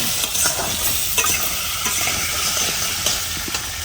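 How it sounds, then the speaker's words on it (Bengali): Potatoes frying in a pan over a smoky, damp clay stove on a rainy day, giving a loud, continuous close sizzle and hiss with faint stirring scrapes, no voices. "আলুগুলো ভেজে নেব।"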